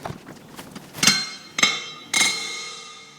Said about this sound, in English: Trying not to whack my glass bowl.